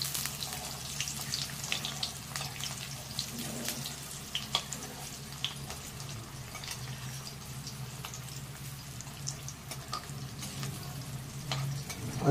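Cauliflower fritters fry in a pan of oil with a low, steady crackling sizzle heard quietly and continuously, with scattered faint clicks and kitchen clatter over it.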